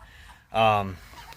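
A Cornish Cross chicken in a damp coop gives a single short, loud, harmonic squawk in the middle of a quiet moment, with faint background noise around it.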